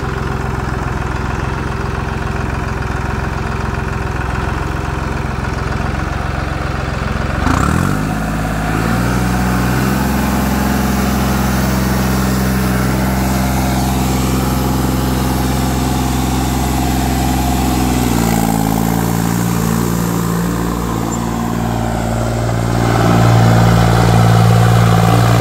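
A heavy modified tractor engine idles with a steady low rumble, then revs up and holds a higher drone, rising again toward the end.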